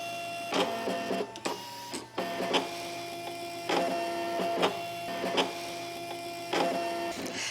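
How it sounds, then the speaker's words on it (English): An electronic quilting cutting machine slicing diamond shapes from fabric on a mat, a quiet steady motorized whir broken by regular short mechanical clicks and shuttling bursts as the blade carriage moves. "I'm going to tell the machine I want to cut"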